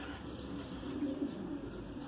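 Racing pigeons in a loft in Guadalajara coo softly while eating chopped vegetables such as celery, a faint low murmur set against a quiet background hiss.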